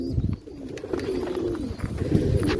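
Pigeons coo in low, repeated rumbling calls close by, a steady throaty murmur filling the moment with no talk over it.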